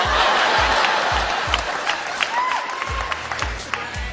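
Comedy club audience applauding with cheers and whoops, a steady dense clapping texture over low rhythmic thumps from background music.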